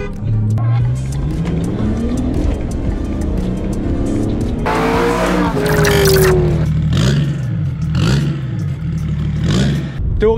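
A BMW 5 Series on a wet road, engine revving and tires squealing in a burst of wheelspin mid-clip, with steady car noise before and after the loud skid.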